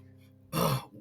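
A single short burst of coughing, close and fairly loud, breaking in after a low hum.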